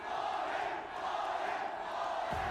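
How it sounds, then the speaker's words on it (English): A large crowd at an esports finals event roars and chants in a dense, sustained wall of voices that stays loud and continuous throughout. "The crowd has chanted."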